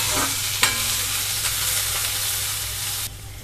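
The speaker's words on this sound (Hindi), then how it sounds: "अब इसमें हम एक मीडियम आकार का प्याज बारीक कटा हुआ डालकर भून लेते हैं।" Finely chopped onion frying in a pan, giving a continuous close hiss and sizzle with a couple of faint scrapes of stirring, which drops sharply near the end as the sizzle quiets, with no voices.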